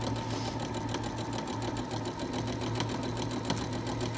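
A sewing machine runs steadily while stitching fabric for pajama pants, a close, continuous mechanical whir with rapid rhythmic needle ticking and no pauses.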